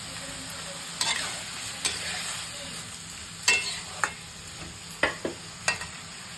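Carrots are stir-fried in a pan over a constant sizzle, with sharp spatula scrapes and clacks landing irregularly several times and no voices.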